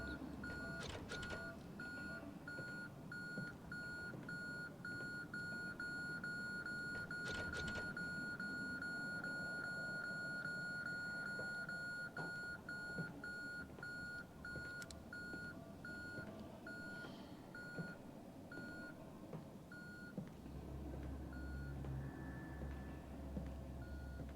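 Steady repeating electronic beeps at a fixed pitch from the game Conarium run through a low rumbling background, with a brief louder burst partway through and a deeper hum near the end.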